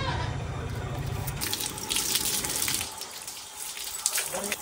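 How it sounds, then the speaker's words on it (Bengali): Running tap water splashing steadily as hands and feet are washed, a continuous close wash that thins out toward the end, with a voice speaking over the first part. "হাত পা সব ধুয়ে নিছি, আর লাগবে না, এবার বন্ধ করো"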